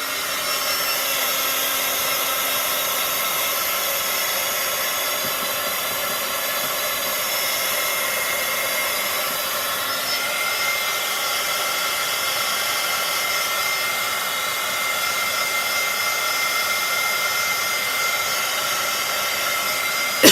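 Hair dryer blowing steadily on paint, a constant loud whooshing hum running unbroken and alone.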